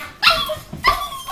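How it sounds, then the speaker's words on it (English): A dog gives two short, high-pitched yelping barks with a whimpering edge, close to the microphone and spaced about half a second apart, with no one speaking. "This is their dog, Addie. She goes kind of crazy when people come"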